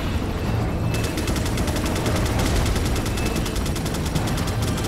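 Machine gun fire in the Resident Evil 4 video game rattles loud and continuous, a fast, steady stream of shots that starts within the first second and keeps going to the end over a dense layer of battle noise.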